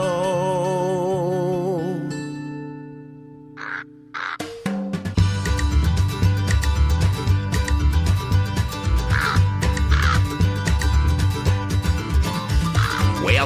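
Crow caws used as a sound effect in a Christmas song, a few harsh calls standing alone near the start before the music kicks in loud with a full band.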